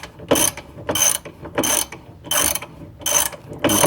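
A ratchet tightens the rear sway bar link bolt on a 2004–2008 Pontiac Grand Prix, clicking close and loud in six even bursts of rapid pawl ticks, each separated by a brief pause.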